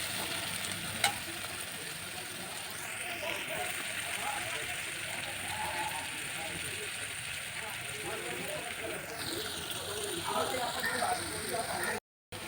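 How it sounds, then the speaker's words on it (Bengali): Dried chillies and whole garam masala hit hot oil for a Bengali fish dish, giving a continuous crackling sizzle with a sharp pop near the start, close by and steady throughout. "এবার এই শুকনো লঙ্কা ফোড়ন আর গোটা গরম মশলা তেলে ছাড়লে একটা আলাদা সেন্ট।"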